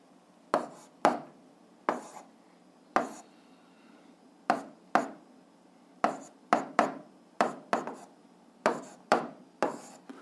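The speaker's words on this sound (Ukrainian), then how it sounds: "Записуємо тоді Костенко." Pen strokes scratch across paper as a surname is written down, quiet, close, dry scrapes in short irregular bursts, one after another with brief pauses.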